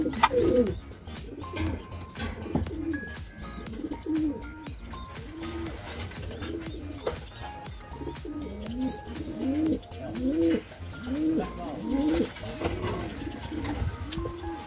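A racing pigeon coos repeatedly in soft, rhythmic bursts, close by, against a quiet background with faint chirps.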